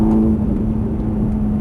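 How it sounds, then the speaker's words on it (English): A Ferrari 430 engine drones loudly and steadily on a race track, a close, sustained mechanical tone with a slight rise as the throttle opens. "Over to the left side, squeeze the throttle."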